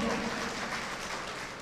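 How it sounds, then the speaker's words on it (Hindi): Audience applause at the Tilhar mushaira and kavi sammelan poetry gathering in 2024, a dense, steady wash of many hands clapping that fills the whole moment and fades slightly toward the end, with no voices standing out. "तो एक बार जोरदार तालियां"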